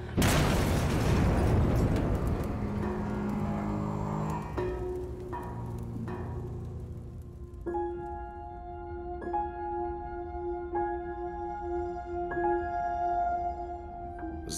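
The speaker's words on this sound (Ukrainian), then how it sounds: "І це все на тлі цих вибухів, які ось тут за стінкою відбуваються" Heavy booming explosions just beyond a building wall roll in, loud and muffled, followed by a sustained rumbling din with ringing tones as the noise settles.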